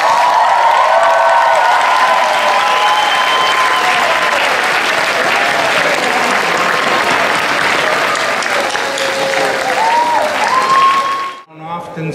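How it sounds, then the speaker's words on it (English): A large commencement ceremony audience applauds for family and friends at a New York University College of Dentistry graduation, with steady, loud clapping from a big crowd and a few whistles and cheers throughout, cutting off at the end. "Let's all give them a tremendous round of applause."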